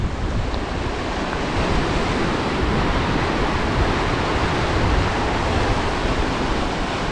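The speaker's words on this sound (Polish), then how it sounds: "A teraz jak widzicie, wali tutaj ostro. Duży przypływ." Heavy surf pounds steadily at high tide on an Icelandic coast, a continuous loud roar of waves surging against the shore with wind noise mixed in, no voices.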